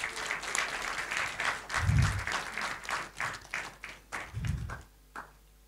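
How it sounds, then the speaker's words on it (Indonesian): Wedding guests give a short round of applause, scattered claps rising into bursts and tapering off with a few final claps, fairly faint and indoors. "Boleh tepuk tangan."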